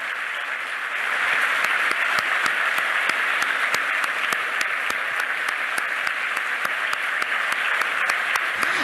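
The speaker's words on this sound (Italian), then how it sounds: "con un pensiero rivolto a Giulia, invitando tutti a ricordarla con un minuto di rumore, con un applauso che deve arrivare a Padova" Sustained applause from a large audience at a university ceremony, a dense steady wash of many hands clapping that swells after the first second and continues evenly throughout, with no talk.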